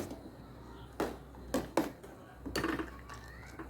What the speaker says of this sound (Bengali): অনবরত এটাকে যতক্ষণ না চালটা একটু ভেপে যাচ্ছে ততক্ষণ কিন্তু এটাকে এইভাবেই নাড়তে হবে।